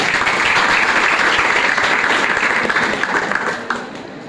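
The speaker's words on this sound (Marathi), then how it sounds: "टाळ्या वाजवायला हरकत नाही, टाळ्या घेणारच वाटते." An audience at a school farewell ceremony breaks into loud, sustained applause, a dense wash of many hands clapping together that stays strong, then thins out and fades near the end.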